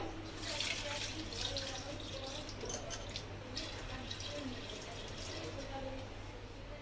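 Water is poured into a pressure cooker holding 500 grams of elephant foot yam, a soft continuous splashing that sits under a speaking voice.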